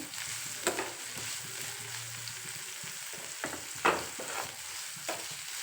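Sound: bitter gourd frying in oil on medium flame

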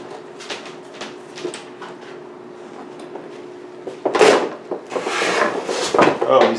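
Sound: cardboard box being torn open during unboxing

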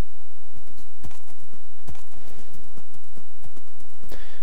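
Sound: horse hooves clip-clopping, from video game Minecraft

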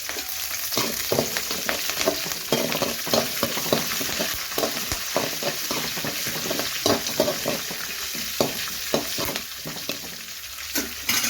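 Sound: green chillies and curry leaves frying in oil

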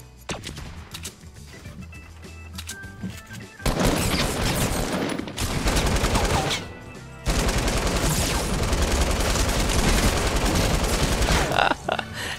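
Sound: LMG machine gun fire in Fortnite video game

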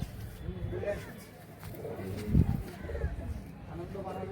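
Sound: pigeon cooing

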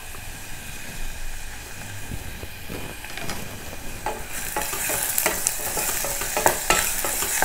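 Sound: onions being stirred and fried in a pan

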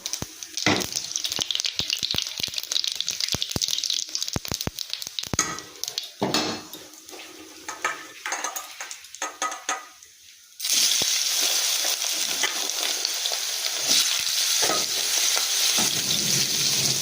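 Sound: potatoes frying in hot oil

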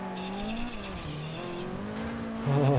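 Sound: racing cars in video game Forza Horizon 2

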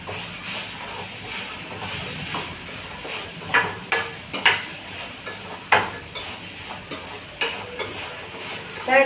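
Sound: onion and tomato frying in a pan

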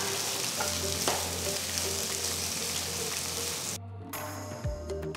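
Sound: onions and chillies sautéing in pan

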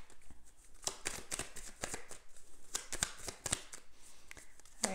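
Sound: tarot cards being shuffled

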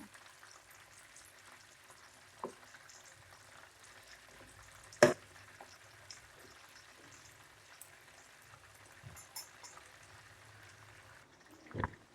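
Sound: chicken pieces frying in oil

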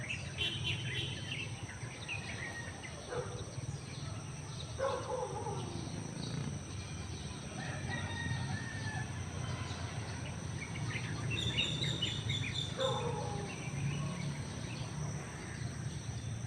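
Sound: birds calling near cows

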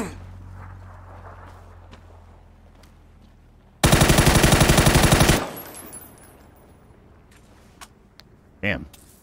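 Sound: gunfire with recoil in the video game Escape from Tarkov

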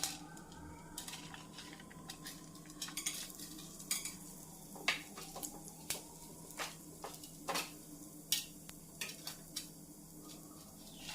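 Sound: chana dal and peanuts frying and stirred in oil

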